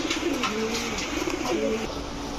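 Soft, low cooing of racer, gola and giribaz pigeons repeats a few times over a steady background hiss, with no talking.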